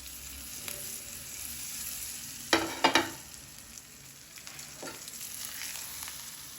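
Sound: tadka tempering with curry leaves sizzling as it is added

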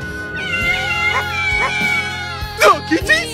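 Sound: cats meowing

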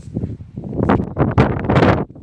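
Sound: strong wind on a mountain summit

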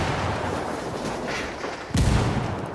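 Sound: frag grenade explosion in Ghost Recon Wildlands video game

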